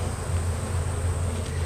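Honey bees massed in a heavy spring hive box give off a steady, close droning buzz with a low hum underneath, continuous and unbroken throughout.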